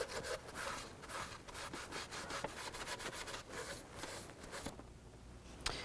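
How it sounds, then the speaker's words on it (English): A rag dampened with brake parts cleaner is rubbed in short back-and-forth strokes over an engine intake surface on a 2000-2006 Chevy Tahoe. The strokes make a close, steady scrubbing with no talk. "you can take a rag and a little brake parts cleaner and just clean up the surface"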